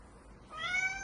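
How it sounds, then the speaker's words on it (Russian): A young foster cat gives a single clear, close meow that rises in the second half of a quiet moment, with no talking. "Мяу."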